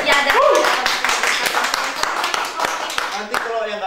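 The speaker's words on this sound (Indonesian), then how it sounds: "Tapi kita tepuk tangan dulu dong" A studio audience on an Indonesian TV comedy show claps in a loud, steady ripple of hand claps, with voices talking and calling out over it.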